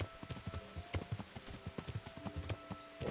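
Horse hooves clip-clop in a steady trotting rhythm in the medieval video game Kingdom Come: Deliverance, fairly faint and even, with quiet game ambience underneath.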